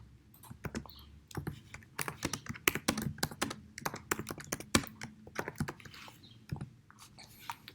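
Brisk typing on a computer keyboard, a dense run of crisp close keystrokes in uneven bursts with short pauses, fairly quiet and alone.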